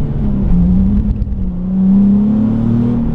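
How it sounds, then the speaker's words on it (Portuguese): A Nissan 370Z drift car's engine revs close by on a rainy day, holding a loud steady drone before swelling into a rising rev, with no voices. "Ó, mais uma aceleradinha."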